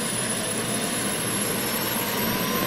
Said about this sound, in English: So we can check here the APU. It is powering on.